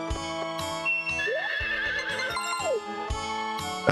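Horse neighing in the video game Harvest Moon 64, a loud whinny with rising and falling pitch over bright game music with repeated plucked notes.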